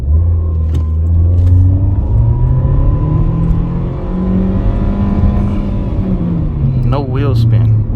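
A 2014 Nissan Sentra S with a 1.8 liter engine accelerates in sport mode with traction control off. Its engine drones up steadily from inside the cabin, and a voice speaks briefly near the end.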